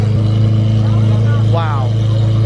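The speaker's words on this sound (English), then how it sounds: "Better rev it." A car engine idles and revs loudly nearby at a muscle car meet, a steady rumbling drone with a rising rev near the end, while people talk over it.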